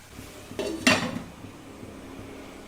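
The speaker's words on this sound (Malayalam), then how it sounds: "ഇടയ്ക്കൊക്കെ ഇതിങ്ങനെ പൊക്കി ഇളക്കി കൊടുക്കണം." A pan of mushrooms and onions sautéing for butter garlic mushroom gets stirred, with a couple of loud metallic scrapes and clanks of a utensil against the pan near the middle, over a faint low background and no talk.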